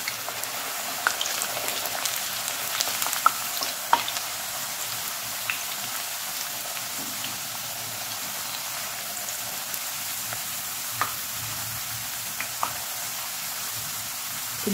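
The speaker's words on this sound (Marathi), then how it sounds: "तर आपण आता चिप्स तळून घेऊ। आपण गॅस फास्ट ठेवूनच चिप्स तळून घ्यायचे।" Potato chips frying in hot oil over a high gas flame, giving a steady fine crackle and hiss throughout with a few sharper pops, close and moderately loud, no voices.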